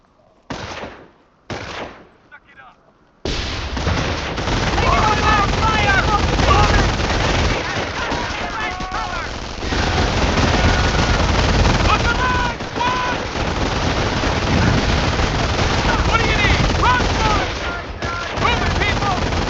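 Heavy machine gun bursts and artillery blasts roar almost without pause through a Company of Heroes tutorial battle at a farm, loud and dense after a few brief opening shots.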